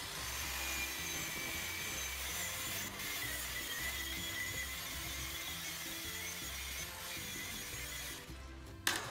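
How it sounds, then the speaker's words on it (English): A wire brush scours the surface of a walnut slab for an exterior table, giving a steady, unbroken abrasive whirring and scrubbing that is fairly quiet and continues alone for about nine seconds. "it's time to bring back a little texture with this wire brush."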